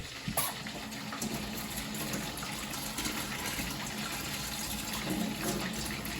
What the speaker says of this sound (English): we're going to add 2 tablespoons of cold water to it